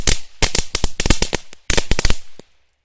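A string of small NWP Colibri firecrackers goes off in two quick bursts of sharp, crackling pops close by, with a last lone bang before silence.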